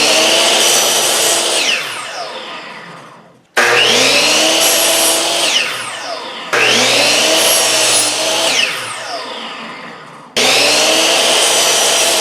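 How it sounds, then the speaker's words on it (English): Four 8-foot wooden 2x2 boards being hand-sawn in half in a workshop, heard as loud, steady rasping saw strokes in four separate bursts, each fading out as the cut finishes, with no talking. "I'm going to start by cutting 4 8-foot long 2x2s in half to give me these 4-foot sections."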